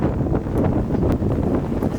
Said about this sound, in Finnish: Pilvet kerääntyvät ja tuuli nousee.